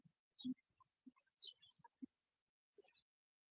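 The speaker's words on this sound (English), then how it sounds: "These birds gathered up over here." A flock of small birds gathers outdoors in the snow, giving scattered short high chirps and tweets with brief gaps between them, close by and clear against a quiet background.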